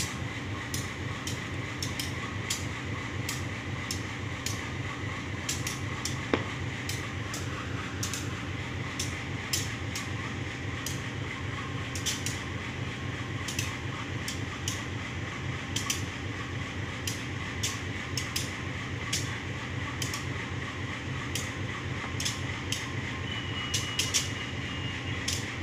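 A local Bandung Raya train pulling away from Haurpugur station toward Padalarang, heard as a steady, continuous rumbling drone overlaid with regular light clicking and ticking throughout.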